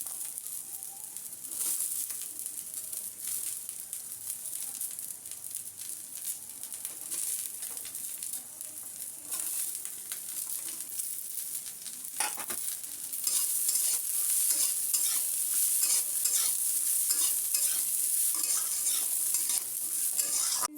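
Carrots, long beans and green beans stir-frying in a pan for chaumin, a steady close sizzle with scraping stirs throughout that grows louder and brighter in the second half, with no talk.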